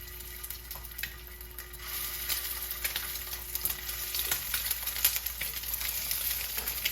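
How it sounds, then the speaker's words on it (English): Avocado oil sizzles steadily as crab cakes fry in a pan, with crackles and pops that grow busier after the first couple of seconds. "Sometimes there's a lot of splattering. I think that comes with the frying."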